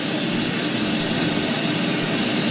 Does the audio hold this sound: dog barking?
no